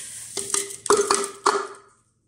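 Crushed biscuit crumbs are tipped into a bowl in a few quick clattering bursts, with the container knocking against the dish, close and moderately loud. The noise fades to silence.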